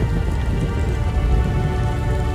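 Heavy rain pours steadily and loudly in the Nancy Drew: Midnight in Salem video game, a dense continuous hiss with a low thundery rumble underneath, no voices present.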